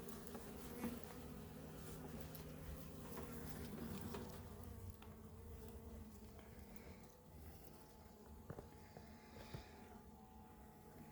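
Honeybees buzz steadily in an opened beehive, a close, low, continuous hum of many wings with faint shifting tones and occasional soft taps, no voices.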